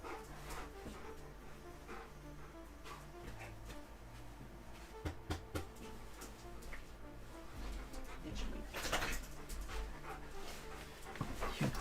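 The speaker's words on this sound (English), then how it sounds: "Here comes my little dog, my little dog." A little dog pants and gives soft whimpers and yips, faint and close, over a bed of steady electronic tones.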